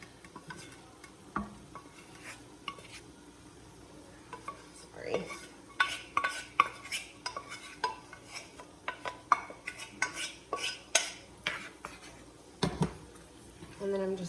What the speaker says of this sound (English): gonna give that a stir and just combine it with everything